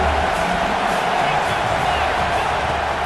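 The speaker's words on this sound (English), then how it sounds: "This crowd knows when to bring it." A packed stadium crowd roars steadily in the EA College Football 26 video game during an Auburn Tigers home game, a dense, continuous wash of cheering heard from a distance.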